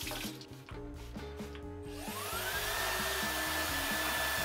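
A hair dryer blows steadily and loudly while drying hair, a constant close whoosh with a whining motor hum and a tone shift partway through as the setting or angle changes.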